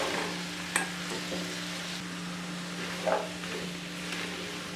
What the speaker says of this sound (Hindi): चम्मच चलाते हुए हम टिंडों की बुनाई करेंगे।